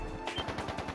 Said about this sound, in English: Gunshots, further in!